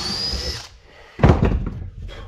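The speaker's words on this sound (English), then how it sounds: "my Craig pocket drill is getting a bit dull" A slightly dull Kreg pocket hole drill bores into wood for galley cabinets aboard a wooden boat, a whining spin-down followed by a loud gritty grinding burst of about a second.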